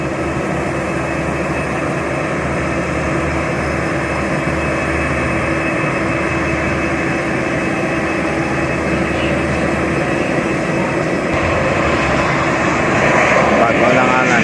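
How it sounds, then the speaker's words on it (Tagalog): Airplane landing at an airport, a steady loud engine roar that fills the whole clip and swells slightly toward the end, with people talking underneath. "Aray ang ilang airport. Makakadto kita dito sa aeroplano. Ilang aeroplano."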